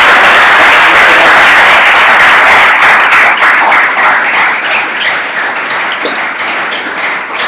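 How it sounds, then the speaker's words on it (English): An audience at an entrepreneur speaker series event gives the speaker a big round of applause: loud, dense, sustained clapping from a crowd, tapering slightly near the end. "Can we give Ian a big round of applause?"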